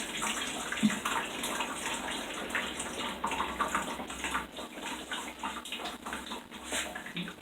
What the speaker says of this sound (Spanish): introduce ahí la malla con el marco, sube y saco el agua acá